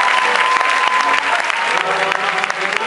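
Warm audience applause at a live Greek music performance, dense continuous clapping throughout, with faint musical tones lingering beneath.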